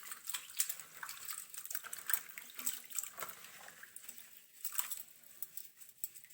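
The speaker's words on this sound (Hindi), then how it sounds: "इसको हम धोते हैं, इसको खुले पानी में, ज़्यादा पानी में काफ़ी देर धोना पड़ता है।" Fresh turmeric roots are rubbed and swished by hand in a large basin of water, giving soft irregular splashes and patters that rise and fall without talking.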